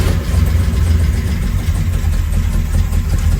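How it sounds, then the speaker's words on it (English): A 1967 Chevrolet Chevelle with a 454 V8 and four-speed idles steadily up close, a deep, loud, rumbling drone that holds even throughout with no talk. "I want to make sure she's gonna idle."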